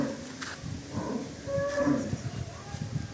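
A very large cow moos close by, a few low drawn-out lowing calls rising and falling over a quiet farmyard background.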